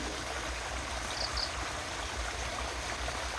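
Water runs steadily through a stream by a rice field, a continuous rushing flow close by with no voices over it.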